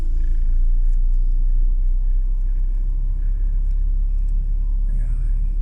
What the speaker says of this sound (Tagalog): kaya pala traffic dito sa highway papuntang Porac